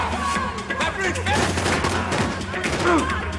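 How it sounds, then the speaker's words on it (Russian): Rapid bursts of gunfire from a Max Payne 3 shootout crackle continuously, loud and dense, with a brief exclamation from a player over the shots. "Подожди, кто по мне стреляет?"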